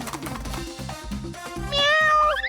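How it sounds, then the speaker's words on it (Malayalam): A cartoon cat gives a drawn-out, rising meow near the end, loud and close, above a bouncy musical backing of rhythmic low notes. "അയ്യോ പൂച്ച കുറുകെ ചാടി."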